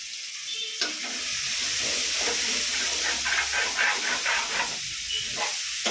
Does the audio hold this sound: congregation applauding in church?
no